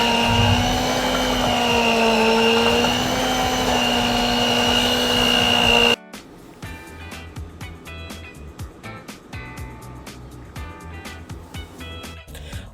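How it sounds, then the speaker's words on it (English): A hand mixer whirs loudly and steadily through cake batter, a constant close motor drone that stops abruptly partway, after which only faint clicks and kitchen handling sounds follow. "then I'm gonna go into my hand mixer and mix it up"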